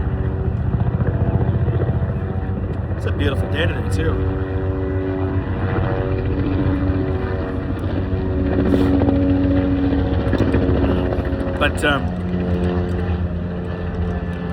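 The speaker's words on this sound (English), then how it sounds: "there's a helicopter coming over me" A helicopter passes overhead on a clear day, its loud, steady rotor chop and engine drone filling the air throughout while someone talks briefly over the noise.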